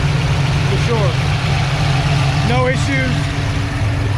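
A budget engine fitted with an On3 78mm billet turbo runs at a steady idle, a loud continuous low hum with faint whining tones drifting over it.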